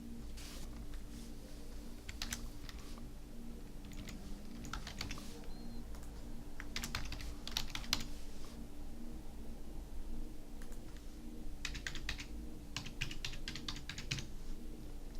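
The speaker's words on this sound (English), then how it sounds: "so we're going to type in the parent information" Steady typing on a computer keyboard while entering parent details into child-enrolment software, with clustered bursts of key clicks and short pauses, close and clear over a faint background hum, with no talking.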